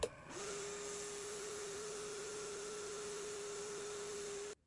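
A mini lathe spins up and holds a steady whine with a constant hum while turning and sanding a custom cork fly rod grip. It runs close and unbroken for several seconds, then cuts off abruptly.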